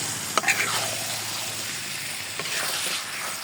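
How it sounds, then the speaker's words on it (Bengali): Chicken and potatoes stir-frying in spices make a continuous sizzle at moderate level, with a few sharp utensil scrapes and clicks near the start and again later. "এখন এই আলুটা দিয়েও 5 মিনিটের মতো কষিয়ে নেব।"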